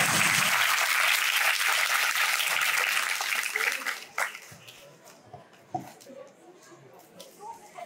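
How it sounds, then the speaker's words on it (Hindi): A school audience at an Independence Day celebration bursts into loud, dense applause that runs for several seconds, then fades to scattered claps and quiet crowd murmur. "आपके स्कूल की तालियों की आवाज की इतनी गड़गड़ाहट होती है"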